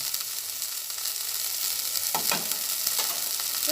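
Ground garam masala fries in hot oil with a constant close sizzle and bright hiss, with a few soft stirring scrapes partway through.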